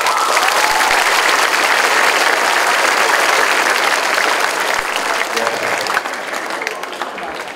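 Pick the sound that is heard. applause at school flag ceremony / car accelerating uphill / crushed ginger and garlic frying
applause at school flag ceremony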